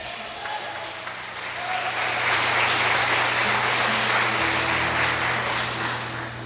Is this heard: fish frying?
no